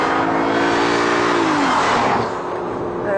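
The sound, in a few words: Audi A6 driven on a test track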